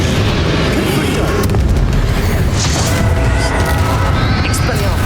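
A Confringo fire spell blasts in a Hogwarts Legacy boss duel: a loud, dense, booming explosion that rumbles on continuously for several seconds inside the game's sound.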